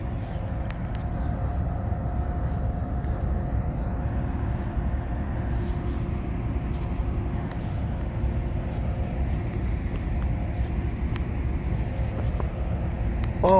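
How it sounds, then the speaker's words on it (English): A heavy, steady rumble of a passing southbound manifest freight train with an IC SD70 locomotive, loud and close, with a faint hum running through it and no voices. "Oh, there's a train."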